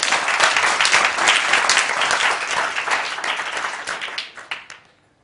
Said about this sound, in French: On l'applaudit, Patrick Valette.